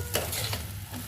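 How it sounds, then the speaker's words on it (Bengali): Chow mein with chilli being stirred and fried in a pan, close sizzling broken by quick scraping stirs. "এখানে আমি নাড়াচাড়া করে নিয়ে ওকে ভাজা ভাজা করে নিব"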